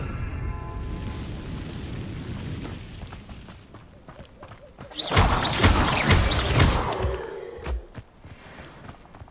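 Incendio fire spell cast in Hogwarts Legacy, a game: a low rumbling roar builds, then a loud burst of crackling, whooshing fire and crashing impacts erupts midway and lasts several seconds before fading into softer debris sounds.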